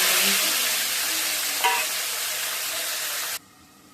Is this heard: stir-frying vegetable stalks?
yes